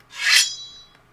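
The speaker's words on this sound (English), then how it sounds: "We got a drill sword sound" A single quick, airy sword swish sound effect in a drill beat rises and fades in about a second, followed by a faint tick.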